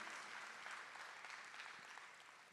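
An audience at a town hall meeting applauds steadily for a couple of seconds, a soft, even wash of clapping from across the room that fades slightly toward the end.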